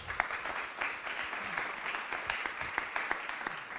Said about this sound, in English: give it up for Neil, and thank you so much